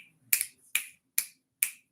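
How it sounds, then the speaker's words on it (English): Four crisp finger snaps, evenly spaced about half a second apart, close and loud against a quiet indoor background with no talking. "Let me snap my fingers in your face."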